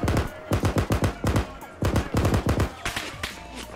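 Heavy machine gun fire in the ARMA 3 military simulation game: loud, close bursts of rapid rhythmic shots, several volleys broken by short pauses, with voices talking over the shooting.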